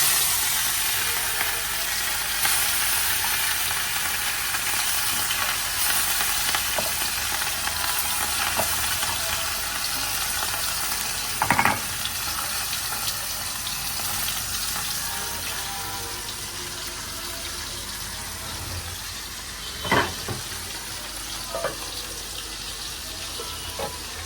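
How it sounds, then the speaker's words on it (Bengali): Fish and eggplant frying in hot oil, a steady hissing sizzle that runs throughout, with a couple of brief knocks or clatters standing out, fairly close and without talk. "তেল গরম হয়ে গেছে মাছ আর এই যে বেগুনটা ভাজতে দিবে"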